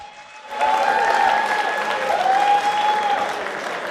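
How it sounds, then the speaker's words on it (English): Crowd applause at an MMA event as a fighter named Dan is called on stage, rising sharply after a quieter start into a loud, sustained clapping with a faint tonal ringing underneath. "round of applause for Dan"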